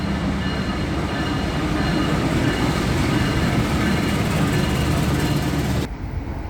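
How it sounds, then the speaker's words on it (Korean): A loud, steady rumble of a train rolling along the rails as it arrives at Probolinggo station in Indonesia, constant and close, cutting off abruptly near the end. "프로볼링고에 기차가 들어오고 있네요."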